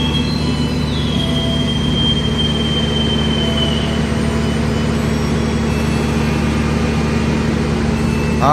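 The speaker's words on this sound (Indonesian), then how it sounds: "Oke, kereta api Progo berangkat dari stasiun Gombong ternyata" An economy-class Progo train pulls out of Gombong station in Indonesia, a loud steady rumble of wheels and cars with a thin wheel squeal drifting over it throughout.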